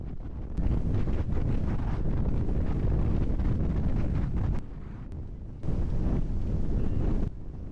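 Strong wind blowing across the mountain plateau of Ben Nevis in winter, buffeting the microphone in a loud, rough, continuous roar with brief lulls, and no voices heard.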